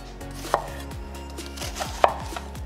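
Knife chops through onion on a board, two sharp, distinct cuts about a second and a half apart with faint lighter taps between, close and fairly quiet.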